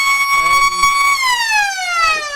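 A loud, sustained siren at a football match with a steady high tone that then slides downward, sounding close and continuous, with faint crowd noise beneath.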